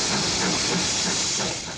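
A British steam locomotive releases a steady, loud, broad hiss of steam that continues without a break and fades slightly near the end.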